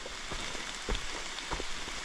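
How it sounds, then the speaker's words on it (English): Steady rain falls on a hiking trail along the Appalachian Trail, a close, continuous patter with occasional heavier drops hitting nearby surfaces. "so it's been raining for a while"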